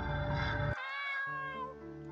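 A cat meows in a horror video game, a drawn-out tonal call that bends in pitch and runs almost continuously, clear and fairly close over faint game background.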